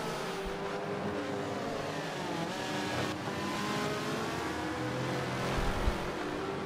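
Ferrari GT race car heard onboard at Bathurst during an endurance GT championship round, its engine droning loud and steady throughout with shifting harmonic pitch and a brief rise near the end, no talk.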